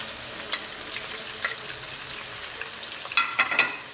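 Finely chopped onions sizzle in oil with whole garam masala, a steady close hiss of frying broken by a few sharp crackles and spoon scrapes near the end.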